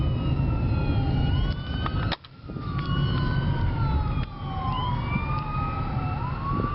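An ambulance siren passes along a Houston street, its wailing tones sweeping up and down loudly and continuously over traffic rumble, with a brief dip partway through.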